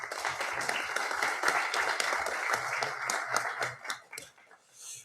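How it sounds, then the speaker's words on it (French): Applause from the audience at a municipal council meeting in Allauch: several seconds of dense clapping with distinct individual claps, fading toward the end. "On peut les féliciter et les applaudir."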